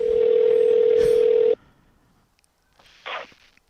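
A telephone sounds during a podcast recording as a loud, steady electronic tone for about a second and a half, then cuts out to near silence, followed by a brief faint burst of noise.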